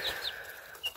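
A farm rooster and hens make a few faint, brief clucks in quick succession against a quiet background.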